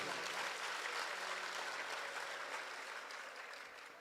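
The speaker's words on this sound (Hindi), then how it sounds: "एक बार जोरदार तालियां शिक्कर वालों के लिए।" A crowd at a cow-welfare religious festival in Palwas, Sikar, gives loud, sustained applause that fills the space evenly, then tapers slightly toward the end.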